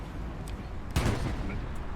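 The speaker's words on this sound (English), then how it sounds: "Actually, there's something shooting us." Gunfire hits a tank in the World War II shooter game Hell Let Loose: a single sharp burst partway through, heard over a constant low engine rumble.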